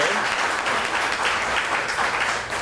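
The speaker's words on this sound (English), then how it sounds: "let's give them a round of applause" Dense audience applause at a ribbon-cutting ceremony for the McMurray Experience, a steady wash of many hands clapping for the full stretch with no break.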